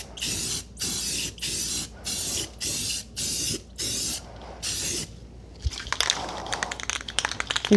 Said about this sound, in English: These cans of spray paint really don't go all that far.